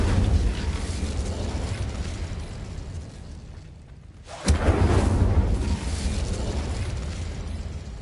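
Incendio fire spell cast in the Hogwarts Legacy video game: a sudden whooshing burst of flame after a brief quieter lull, loud and alone over a steady game soundscape.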